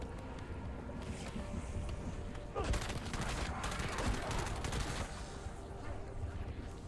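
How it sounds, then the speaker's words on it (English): Burst-fire gun in Black Ops 7 Zombies, rapid clusters of shots rattling out in quick volleys amid ongoing game noise, fairly quiet in the mix. "Oh, I forgot this thing's a burst."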